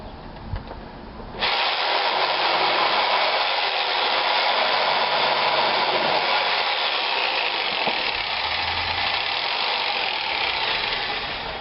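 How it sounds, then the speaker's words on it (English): A jigsaw saws steadily through wood for a handmade war club, starting abruptly after a brief quieter moment and then running loud and continuous, close by, with a harsh buzzing whine. "I'm going to use this jigsaw a little more, try and speed this up for y'all"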